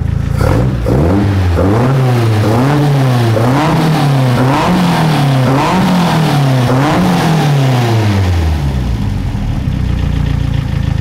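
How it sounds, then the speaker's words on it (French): Engine of an Alpine car fitted with carburettors, revved repeatedly under the accelerator in loud rising and falling surges, then settling toward idle, close and continuous. "vous allez voir, à l'accélérateur, ça réagit plutôt bien"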